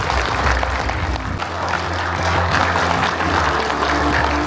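An audience in a hall applauds at the opening of the third conference of machinists in Mongolia, with steady, loud, sustained clapping throughout and a faint tonal hum underneath.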